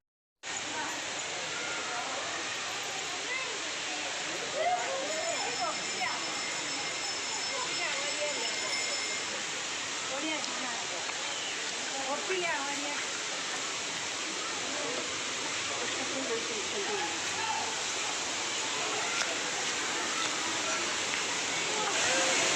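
Courtallam waterfalls roaring as a loud, steady broadband rush of falling water, continuous and close throughout, with voices faintly mixed in.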